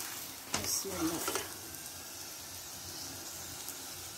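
A gobi paratha fries in a pan with a steady soft sizzle, with brief stirring or scraping noises early on before the frying settles into a quiet, even hiss.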